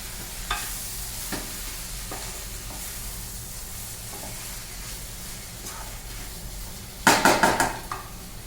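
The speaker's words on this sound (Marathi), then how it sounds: "तर परत मी मिक्स करून झाकण ठेवणार आहे" A spoon stirs capsicum, peas and potato bhaji with coconut and coriander in a pan, soft sizzling and faint scraping throughout, then a quick run of sharp metallic clinks against the pan near the end.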